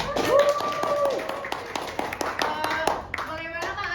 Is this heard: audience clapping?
yes